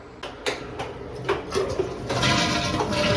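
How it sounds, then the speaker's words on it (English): A household toilet flushes up close with rushing, gurgling water, starting with a few clunks and building into a sustained swirling drain. "we're gonna flush this toilet and then suck out the water"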